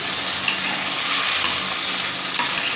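Steady sizzling and crackling of tomatoes sautéing in a pan, with occasional stirring scrapes, close and continuous without any talk.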